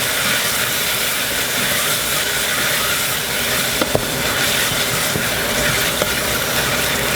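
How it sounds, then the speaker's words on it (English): Curry paste and vegetables sizzling in a hot pan, a loud continuous hiss of frying with a few faint scrapes and clicks from stirring. "We're just going to mix this around with the veg for like a minute."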